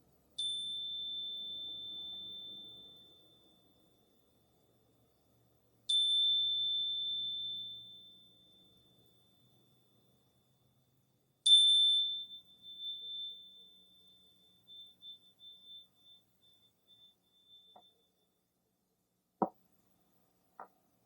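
A bell rings three times in a liturgy reenactment of the Dead Sea Scrolls community. Three clear, high metallic strikes sound about six seconds apart, each ringing out and fading into near silence, followed by a few faint knocks.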